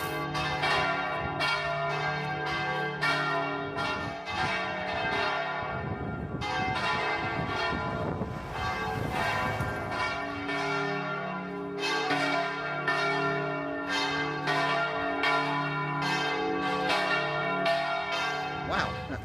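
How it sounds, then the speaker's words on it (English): Loud, clanging church bell rings continuously in a Spanish town, with dense overlapping strokes and rich ringing tones that nearly fill the scene throughout. "that sure is one noisy church bell"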